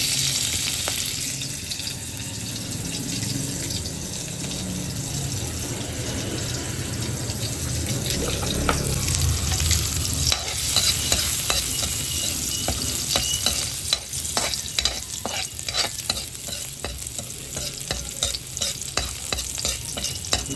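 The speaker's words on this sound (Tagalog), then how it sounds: "Ilagay na natin yung ating bawang." Garlic frying in a pan of oil, a steady close sizzle running throughout with frequent clinks and scrapes of stirring, no talking.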